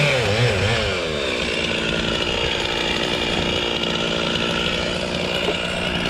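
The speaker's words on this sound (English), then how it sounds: "I hear the chainsaw running." A chainsaw runs steadily and fairly close while a tree brought down by an excavator is being cut up, its engine drone continuous and loud throughout, with no one talking.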